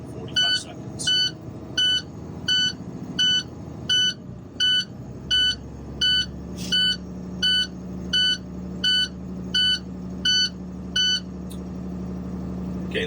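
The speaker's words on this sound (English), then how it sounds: "low air warning alarm went off at about 74 PSI" A truck's low air pressure warning alarm beeps steadily, about a dozen evenly spaced tones, over the low rumble of the idling engine.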